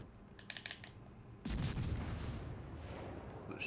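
Naval guns firing from a Soviet destroyer in World of Warships Legends, a short burst of sharp clicks followed by a heavy booming salvo that swells and fades into a rumbling tail, moderately quiet and without talk.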